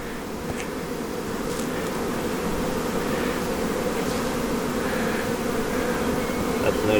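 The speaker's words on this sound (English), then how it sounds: "You can have all the bees you want out of here." Honey bees swarm over hive frames of honey and brood during a spring split, a dense, steady buzzing hum that stays loud and close throughout without pause.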